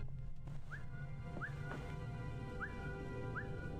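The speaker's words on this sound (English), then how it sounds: "spacebar is the whistle button" A character in the stealth video game Velvet Assassin whistles four times, each a short upward-sliding whistle followed by a held note, spaced steadily and heard clearly over a low hum of game ambience.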